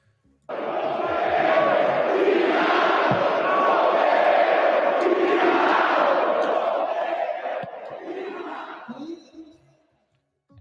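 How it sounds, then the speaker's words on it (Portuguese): Corinthians football supporters chanting in unison in a packed stadium during a derby against Palmeiras, a loud sustained roar of massed voices that holds steady for about seven seconds before thinning and dropping away. "tiveram cantos homofóbicos da torcida do Corinthians direcionados ao Ángel Romero"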